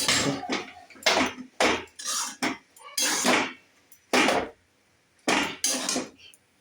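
Cucumber being chopped with a knife on a board, a series of sharp, distinct knocks in an uneven rhythm with short pauses between bursts, close and clear.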